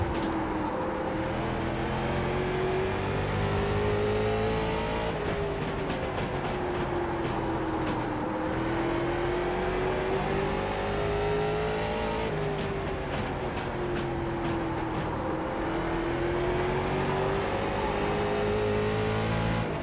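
A Late Model race car engine in the iRacing simulator drones steadily at Lanier National Speedway, rising and falling in pitch as the throttle is eased on and off through corners, loud and continuous without talk.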